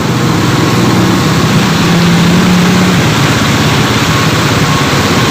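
A stalled motorcycle engine in the rain, running loud and close as a steady, rough drone for several seconds, with no voices.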